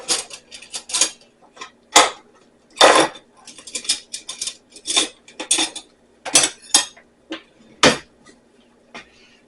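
Metal spoon clattering against dishes and bowls in a home kitchen while dessert is being made, a run of sharp, close clinks and knocks in irregular bursts, with brief pauses between them.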